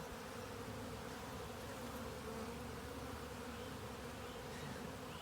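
Honeybees buzzing steadily during an open hive inspection, a dense, even drone of many insects up close, continuous and fairly quiet with no talking.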